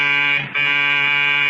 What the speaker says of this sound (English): Then the buzzer to the Smiths' apartment hummed like an angry bee.